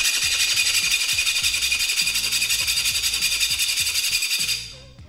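A metal file rasps rapidly back and forth across the hard tip of a tungsten carbide tire stud, a loud, regular scraping rhythm for several seconds before it stops.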